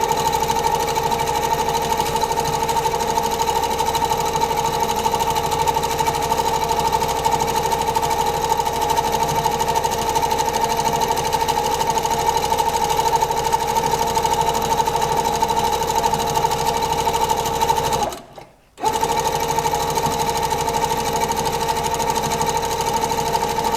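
A Pfaff Powerquilter sewing machine runs fast during free motion quilting, with a steady, close mechanical whir and hum that stops briefly for under a second near the end, then resumes.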